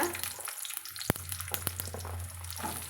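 Small shallots fry in oil with spluttered mustard seeds for a pepper-tomato tamarind curry, a crackling sizzle with sharp pops and a loud utensil knock against the pan.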